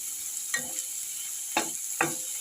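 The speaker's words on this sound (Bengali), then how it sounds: "পেঁয়াজগুলো একটু ভালো করে ভেজে নিই একটু লাল লাল করে ভেজে নিই" Onions fry in oil in a kadai, a soft steady sizzle under three distinct spatula scrapes, close by, with no one talking.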